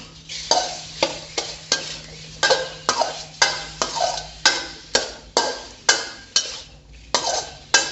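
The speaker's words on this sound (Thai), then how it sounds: "ใส่กุ้งลงไปผัด" Fresh shrimp tossed in a hot pan with shrimp paste and stink beans, a spatula scraping and clacking in a steady rhythm, roughly a dozen firm strokes over a soft sizzle, close up with no talking.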